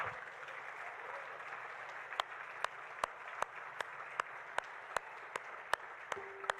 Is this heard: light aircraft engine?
no